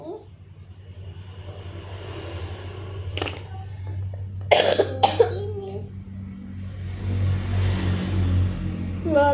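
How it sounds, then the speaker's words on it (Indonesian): A few sharp, close coughs break out in a quick cluster over a steady low engine hum, with people speaking quietly before and after. "Batuk terus."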